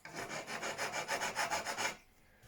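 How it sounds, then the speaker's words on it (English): A hand file rasps on a small plastic model truck headlamp part, about a dozen quick rhythmic back-and-forth strokes up close, then it stops. "it's just taking so long because I don't want to overshoot where I'm filing"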